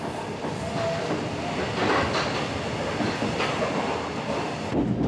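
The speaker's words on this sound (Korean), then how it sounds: "호남에서 출발한 기차는 어느새 경상도 땅 한가운데를 지나고 있습니다." Slow passenger train on the Gyeongjeon line rumbling steadily along the track, with continuous wheel and carriage noise, faint rhythmic clatter and a brief squeal near the end, heard from inside or close by.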